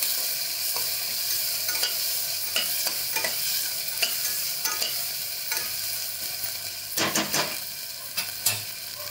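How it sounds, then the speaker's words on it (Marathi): A quarter spoon of turmeric and a spoonful of fresh ginger-garlic paste sautéing in a pan for sprouted moth bean curry, a low steady sizzle broken by clustered clinks and scrapes of stirring. "पाव चमचा हळद आणि फ्रेश अद्रक लसूणची पेस्ट टाकते 1 चमचा, मोठा चमचा. ते पण परतून घेते."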